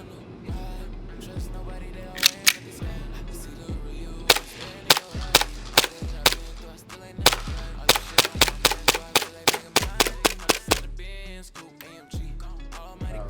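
Stock Tokyo Marui Hi-Capa airsoft pistol firing a long series of sharp, loud snapping shots, first spaced out, then in a quicker steady rhythm, with no talking over them.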